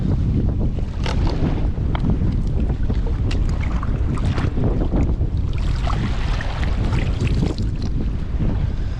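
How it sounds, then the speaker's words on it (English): Heavy wind buffeting the microphone while kayak fishing in the UK, a constant roaring rumble with gusty flutter throughout and no voices. "It's a lot windier than I thought it was going to be."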